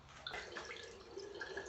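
Water runs out of a nostril during a jal neti nasal rinse, with close, soft splashing and dripping trickles that rise and fall unevenly, no talking.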